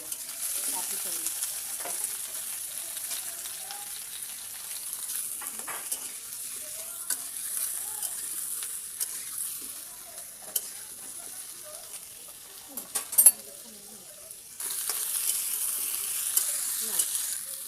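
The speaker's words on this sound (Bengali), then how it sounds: "পেঁয়াজটা ভাজা হয়, আলুটাও ভালো ভাজা হয়ে যাবে একই সঙ্গে" Chopped onion and potato fry together in a pan, a soft, steady high sizzle broken by intermittent spatula scrapes and clinks as they are stirred, with a sharper clatter near the end.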